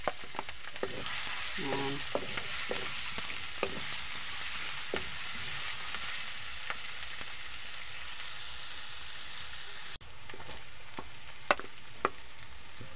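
Cooking oil sizzles steadily in a pan at the start of making ginataang talbos ng kamoteng kahoy, a dense crackling hiss with scattered pops and small clinks; a brief word is spoken near the end.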